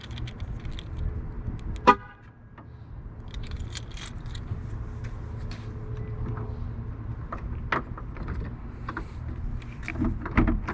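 A Jeep JL/JT gives a single short horn chirp as it locks, sounding once near the start against a low steady background of outdoor noise and faint clicks.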